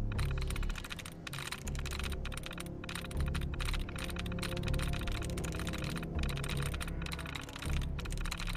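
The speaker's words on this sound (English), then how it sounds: "I love the typing sound in this game." Crisp, rapid keystrokes from a computer terminal in the Fallout 4 video game, a dense steady run of clicks that fills the whole stretch with only brief pauses and no talking.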